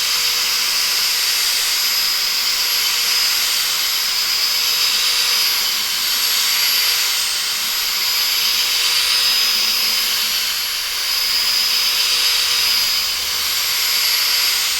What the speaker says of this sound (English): So we're just going to give this carpet a good clean.